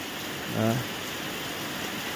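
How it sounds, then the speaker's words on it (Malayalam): Steady rain falls in a continuous, even wash of sound, with a brief low voice breaking through once in the middle. "ഇവിടെ നാട്ടിൽ നല്ല മഴ ഉണ്ട് കേട്ടോ"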